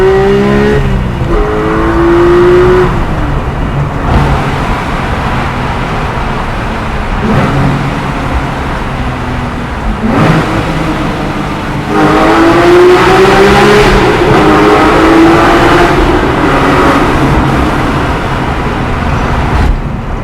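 A manual Porsche 911 GT3 accelerates hard in second gear on a road in Addison, Texas, its engine climbing in rising wails that break at shifts and build again, loud and close from inside the car.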